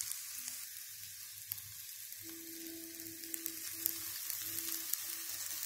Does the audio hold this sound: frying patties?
yes